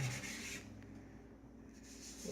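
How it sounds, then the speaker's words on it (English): Charcoal rubbed into a charcoal-pencil drawing: a faint, steady soft scrubbing and swishing of paper, close up and very quiet, with no voice. "Rub that in nice and good."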